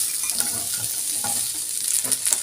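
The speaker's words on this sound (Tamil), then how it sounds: "இப்போ அதே பேனில் நம்ம 3 மீடியம் சைஸ் வெங்காயத்தை சேர்த்துக்கலாம்." Three medium onions sizzling in a pan that still holds the roasting spices for a country chicken curry, a continuous bright frying hiss with stirring scrapes throughout, no talking.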